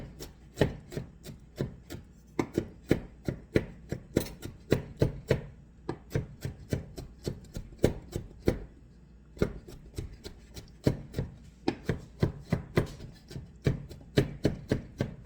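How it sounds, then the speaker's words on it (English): Rapid knife chops on a thin wooden cutting board as flower buds are cut up, a steady run of sharp close knocks with brief pauses, loud and alone without talk. "They said chop these up."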